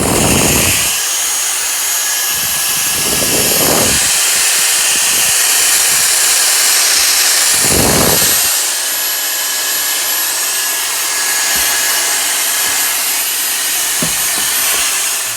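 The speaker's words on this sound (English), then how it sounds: "I might vacuum it real quick" Steady loud whine of a vacuum cleaner running next to the fuel tank of a Honda Civic, with several short harsh surges as the nozzle hits debris, continuous throughout with no talk.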